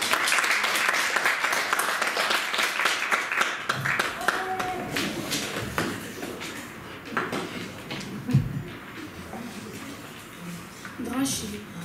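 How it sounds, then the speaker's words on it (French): Audience clapping at a French-language slam poetry stage show in Belgium, a dense patter of many hands that thins and trails off over several seconds, with a voice speaking over the later part. "Mathias, je vous demande d'applaudir bien fort"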